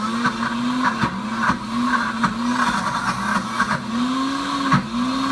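A Pampered Chef Deluxe Cooking Blender grinds almonds into almond butter, its motor whining loudly with a pitch that dips and recovers in repeated cycles as the thickening nut mass catches and releases against the blades.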